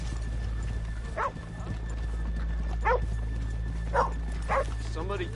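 Horses' hooves clip-clopping slowly in the Red Dead Redemption 2 video game, a few spaced hoof strikes over a steady low hum, with a voice heard alongside.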